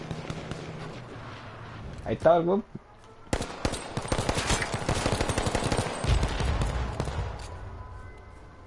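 Rapid bursts of gunfire crackle through a firefight in the video game H1Z1, with repeated shots building into a sustained volley over several seconds while someone talks over it.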